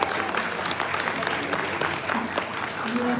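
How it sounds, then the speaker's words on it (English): Audience applause at a focus session of a 2024 professional conference in Dubai, steady dense clapping from a large crowd that fills the room evenly, with faint voices mixed underneath. "Can we give him another round of applause?"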